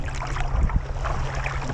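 Wind rushes steadily over open water on Lake Superior during a kayak trip, a close, rumbling buffet against the microphone with low gusty swells and no talk.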